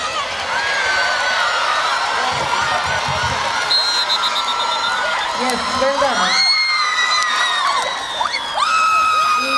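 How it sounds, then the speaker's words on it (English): Students cheer, whoop and yell as a loud crowd at a college inter-collegiate sports meet tug of war event in Mangaluru, with an announcer's voice over the din and louder swells of shouting near the end. "raise your voices and cheer them up"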